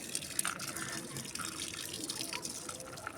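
Water is poured into a flower pot as a faint, steady trickling splash with small drips, close and quiet, with no talk.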